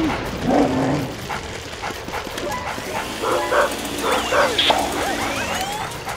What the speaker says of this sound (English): Yes, yes, woof, woof, woof,